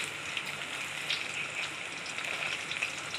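Banana chips fry in hot oil with a steady, even sizzle and fine crackle, close by and continuous without pause.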